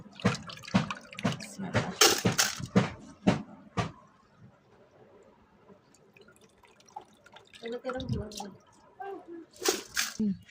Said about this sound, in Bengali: এই তো ধোয়া হয়ে গেছে চাল